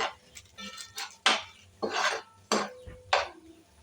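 Ingredients for macaroni being stirred and sautéed in a pan, with a series of sharp spoon-on-pan scrapes and clinks arriving in bursts, fairly close and moderately loud, with no talking.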